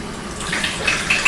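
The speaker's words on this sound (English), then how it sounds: "I'm just using tap water, as you can probably hear." Tap water runs from a kitchen sink faucet into a mug, a close, rising gush of splashing water that grows louder toward the end, no talking.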